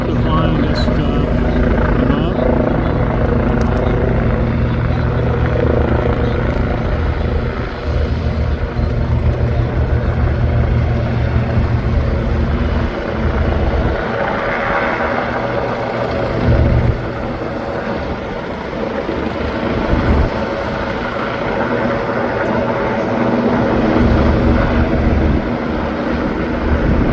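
A helicopter flies low overhead above the Hudson River during the Fleet Week parade of ships, its steady rotor drone heavy and continuous throughout, mixed with harbor boat rumble and wind.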